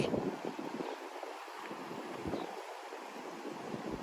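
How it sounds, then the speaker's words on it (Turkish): Steady wind rushes and buffets a microphone outdoors in Güvercinlik, Bodrum, Turkey, a continuous broadband roar with gusty low rumbles swelling and easing throughout. "bugün biraz çok esinti var."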